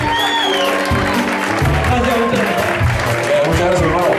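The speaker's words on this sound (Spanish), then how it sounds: "aplauso, René" Applause from a concert audience at a Havana club show with a Cuban timba band, dense steady clapping and crowd noise sustained throughout, loud and close, with voices mixed into the crowd.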